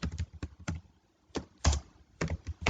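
Rapid bursts of keystrokes on a computer keyboard as C++ code is typed, close and fairly loud, with a short pause midway and no talking.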